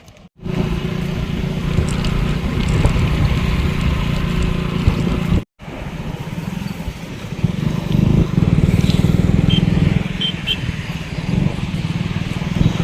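A ride on an app-booked motorcycle taxi, with a steady loud engine drone and road rumble that runs almost the whole time and breaks off once briefly, with no talk.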